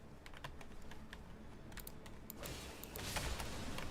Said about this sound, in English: You heard me press the button on the keyboard.